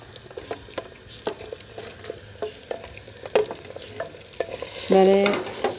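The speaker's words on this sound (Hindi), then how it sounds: "तो जो बाकी का प्याज है ना, उसमें मैं डाल देती हूँ अभी गोश्त को" Beef pieces go into a pot of fried onions, with stirring clatter and a soft sizzle throughout, then a louder burst of frying near the end, heard close and without talk.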